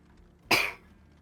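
One short, sharp sneeze bursts out alone in a quiet room, lasting about a quarter second before fading.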